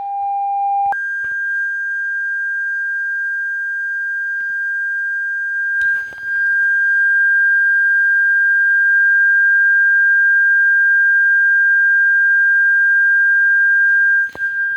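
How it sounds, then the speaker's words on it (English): A pure 1600 Hz sine test tone plays steadily and loudly for about fourteen seconds, after a brief lower tone, with faint clicks partway through and no voices. "Next, let's try 1600 hertz."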